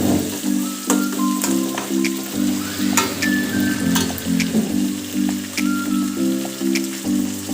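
Garlic and nutmeg sizzle loudly in a frying pan for pickle, a steady crackling fry with repeated scraping stirs of a spoon, close up and continuous with no talk.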